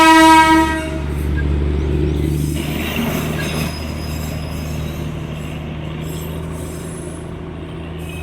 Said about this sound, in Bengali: ট্রেনটা কিন্তু একদম নিচ দিয়েই যাচ্ছে